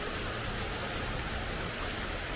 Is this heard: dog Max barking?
no